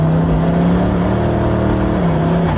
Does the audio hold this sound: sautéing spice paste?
no